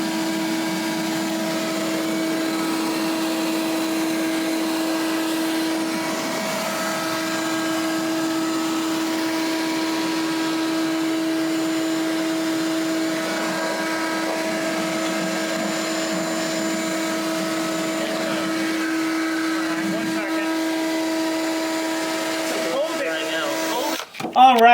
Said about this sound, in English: we have used the vacuum the shop vac to push a lot of air through here